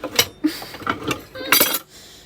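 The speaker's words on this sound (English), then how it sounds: "these dishes don't do themselves, that's for sure." Cutlery and dishes clink and clatter in irregular bursts close by, as if being washed and stacked, with no talking.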